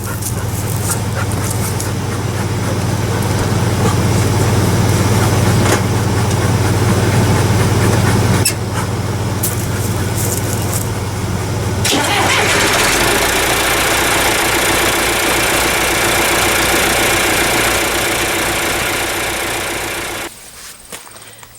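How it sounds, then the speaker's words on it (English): A 1968 John Deere 2510 tractor engine cranks and turns over, then settles into a steady rumbling idle that runs on at length before cutting off near the end. "Now I'm going to be starting the tractor after giving it about 5 minutes to warm the battery up."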